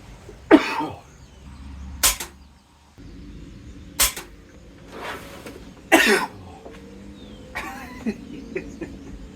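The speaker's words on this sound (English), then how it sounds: "get coughing fit" A person coughs repeatedly in harsh, separate bursts spaced a couple of seconds apart, close by, with quiet gaps between each cough.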